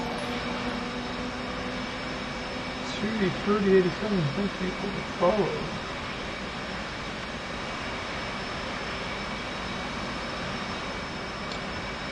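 A steady jet-engine roar from an F/A-18C spooling up in a flight simulator, a continuous broadband hum throughout with someone talking briefly over it near the middle.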